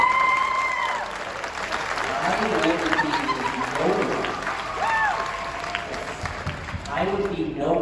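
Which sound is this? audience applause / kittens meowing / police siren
audience applause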